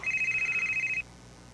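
A cellphone rings with a steady warbling electronic tone for about a second, then cuts off, leaving quiet room noise with no talk.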